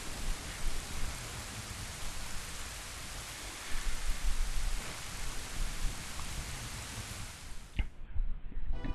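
Steady rain hiss from the Zelda: Ocarina of Time video game runs broad and constant for about eight seconds, then cuts off abruptly near the end after a brief sharp click.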